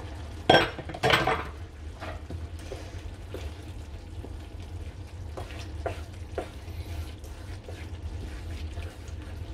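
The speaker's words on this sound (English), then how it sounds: "Now I add the coconut milk." Coconut milk poured into a pot of simmering lentil soup: a couple of clinks from the can or spoon against the pot, then a soft liquid sloshing and quiet bubbling, close and low.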